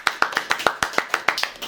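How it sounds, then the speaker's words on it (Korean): About a dozen quick, crisp hand claps in a brisk even rhythm welcome a guest being introduced, close and clear with no talking over them. "박수!"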